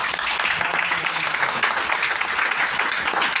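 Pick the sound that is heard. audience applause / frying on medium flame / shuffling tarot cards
audience applause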